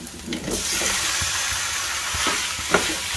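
Chicken and bitter gourd frying in a kadai, a steady close sizzle and hiss with occasional stirring scrapes, no talking.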